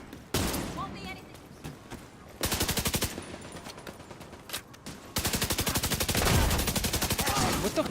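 Automatic gunfire from The Division 2 erupts in long rapid bursts, with a shorter volley around the middle and a sustained stream near the end, loud and close amid game noise, while someone speaks between bursts.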